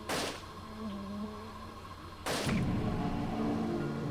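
Two loud, sharp gunshots from the Wii game Escape from Bug Island, one at the start and one about two seconds later, firing at a creature over a low ambient background.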